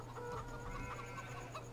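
Chickens cluck faintly in Farming Simulator 17, a few short soft clucks over a steady low hum in the background, with no talking.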